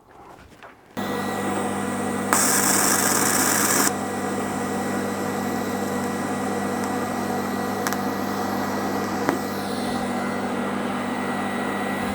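A TIG welding arc hums steadily and loudly for over ten seconds during a traction engine water gauge repair on broken studs, starting abruptly, with a brighter hissing stretch early on and no talking.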